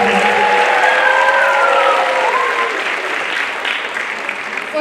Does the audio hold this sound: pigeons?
no